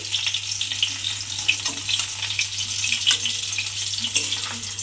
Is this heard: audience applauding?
no